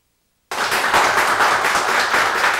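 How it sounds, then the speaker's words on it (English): Sustained applause from REACH scholars and their parents, a dense, steady wash of many hands clapping that starts abruptly after a half-second of silence and holds at an even level throughout. "You hear all that applause?"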